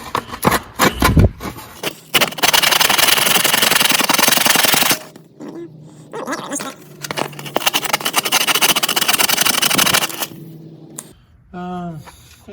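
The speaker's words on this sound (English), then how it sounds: "I'm going to grab some sandpaper and sand this down some, because it has a nasty ridge." Sandpaper rubs down a ridge on a part of a 1971 140 H3 tractor transmission in long, steady rasping strokes, with close-up scraping bursts broken by short pauses and handling clatter. Talking can be heard at times.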